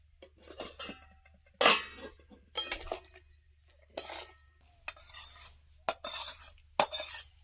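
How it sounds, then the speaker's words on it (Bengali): A spoon scrapes and clinks against a pot while stirring aloo dum potato curry, in about eight separate strokes of varying strength over quiet background hum. "আমি মিশিয়ে দিচ্ছি নাড়াচাড়া করে।"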